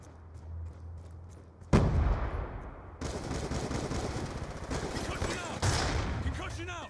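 Gunfire in a first-person shooter video game: a sharp loud burst followed by sustained rapid automatic fire and further bursts, with a voice talking over part of it.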